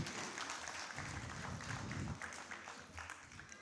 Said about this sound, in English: Let's have a huge round of applause for Shekhawat ji.